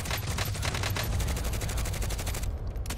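Dense, continuous gunfire from the Call of Duty Warzone video game, with rapid overlapping shots filling the whole stretch at steady loudness.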